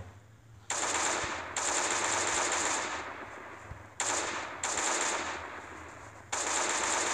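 Automatic gunfire in the video game Last Day on Earth, several loud sustained bursts of rapid shots separated by brief pauses, close and harsh.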